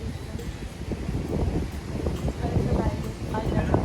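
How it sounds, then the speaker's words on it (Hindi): Wind blowing across a rooftop in Pondicherry, a steady broadband rush with gusty swells, close to the mic and continuous throughout. "हवा चल रही है मस्त वाली"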